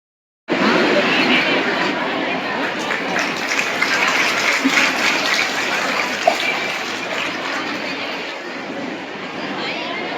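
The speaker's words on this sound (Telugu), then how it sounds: "చప్పట్ల ద్వారా తెలియజేయాల్సిందిగా తెలియజేస్తున్నారు" An audience at a women's empowerment celebration applauds, a loud, dense wash of clapping that starts abruptly and holds steady for about ten seconds.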